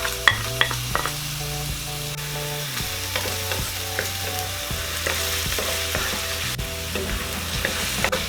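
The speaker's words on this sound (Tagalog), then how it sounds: "Hihintayin lang po natin na medyo mag light brown po yung ating bawang" Garlic and onion sautéing in a pan for a Cebuano-style beef paklay, a steady close sizzle and frying crackle with stirring clatters and scrapes throughout, with no voices.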